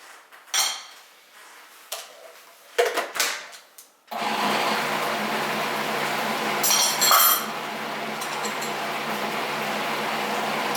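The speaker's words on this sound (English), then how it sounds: "I don't want it to blend for too long, so I stopped that." Clinks of utensils and dishes come first, then a blender starts and runs steadily for several seconds, mixing banana bread batter with an egg, a loud close whir that continues to the end.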